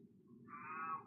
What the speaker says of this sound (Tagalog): So pasensya na sa pusa ko nagme-meow.